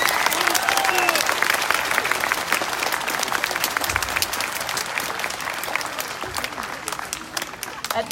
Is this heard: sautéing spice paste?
no